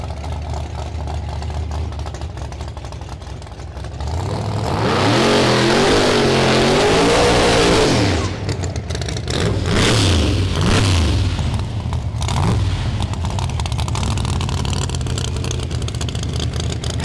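A 1983 Chevrolet Malibu wagon drag car at a no-prep race makes a bye run, its engine roaring loudly as it revs and accelerates hard, with the pitch sweeping up through gear changes before it fades into distant engine noise.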